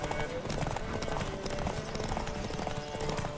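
A horse gallops at speed in The Witcher 3 during a race, with a rapid, continuous clip-clop of hooves under game music and a voice talking over it.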